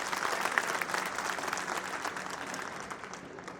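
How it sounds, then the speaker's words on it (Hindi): Audience at a court felicitation ceremony applauding the bar association president, a thick wash of many hands clapping at once, steady and fairly loud, gradually thinning toward the end. "जोरदार प्रधान जी के लिए एक बार ताली में सब लोग।"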